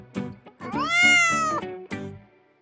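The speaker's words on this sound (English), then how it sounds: "C is for cat." A cat gives a long, rising-and-falling meow framed by a few short chirping mews, close and clear with no other sound.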